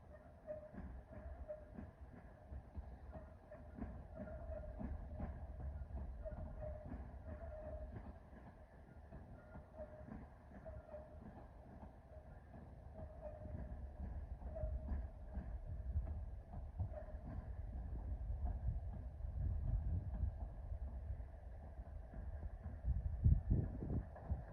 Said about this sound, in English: Here we have a district line train from what I can assume is coming in from Upminster, terminating here at Ealing Broadway.